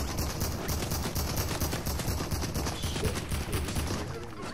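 Dense, continuous gunfire from the video game Fortnite crackles in a rapid fusillade, sounding like sustained machine-gun bursts at moderate volume with no talk over it.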